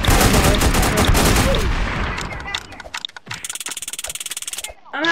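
Gunfire in the Roblox game Prison Life, a chaotic burst of shots and rapid automatic fire under noisy game sound at first, then a steady run of quick, evenly spaced shots near the end.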